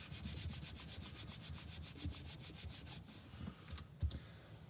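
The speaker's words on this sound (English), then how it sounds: "put glue on top and close my card on top of that and burnish" A glued paper card is burnished by hand, giving soft, quiet, rhythmic rubbing strokes that repeat steadily with no voices.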